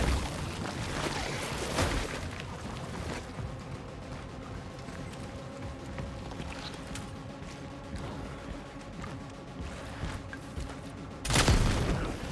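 Gunfire in the survival horror game Cronos: The New Dawn, with loud, booming shots at the start and near the end and a dense rumbling, crackling backdrop of game ambience between them, close and heavy.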